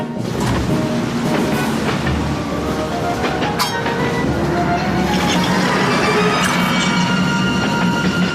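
A train runs continuously with a dense rumbling roar, rattling clatter and occasional metallic clinks and squeals, close and loud throughout with no speech.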